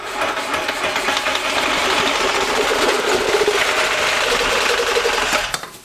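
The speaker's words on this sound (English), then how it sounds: "We're gonna take a sawzall with a steel blade, and I have this marked of where I wanna cut it." A reciprocating saw with a steel blade chatters rapidly through 4-inch ABS drain pipe in a truck camper build, a loud, continuous buzzing cut lasting about five seconds before tapering off.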